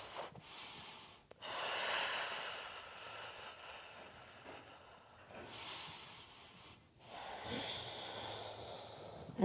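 Slow, deep breaths through the nose and mouth during a gentle hatha yoga flow, long airy inhales and exhales repeating every few seconds, close and steady with no talk.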